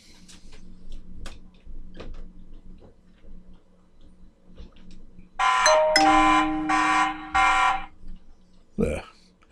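A TP-Link Tapo pan-and-tilt smart camera clicks a few times, then its alarm sounds as a loud, bright beeping tone in several short repeated bursts, close by.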